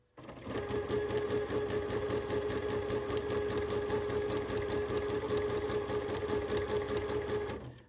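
A sewing machine runs steadily for several seconds doing free motion quilting with cream Orifil thread in the bobbin, a fast even needle chatter with a constant motor hum, close and continuous after a brief start.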